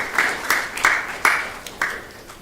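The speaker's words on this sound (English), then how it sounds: "So please give yourselves a big round of applause." Scattered applause at a devotional gathering celebrating Lord Caitanya's appearance: a handful of separate clapping bursts, fairly close, fading between bursts rather than forming a continuous roar.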